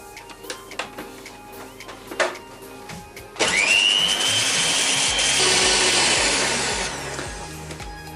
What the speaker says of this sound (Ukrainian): Для цього нам необхідно 4 білка взбити до пішної піни.